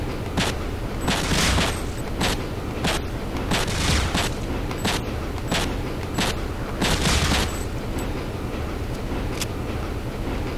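Pistol gunfire in the video game Breakdown: a dense run of loud, repeated sharp shots that fire in quick bursts over a constant noisy background, with no talk over them.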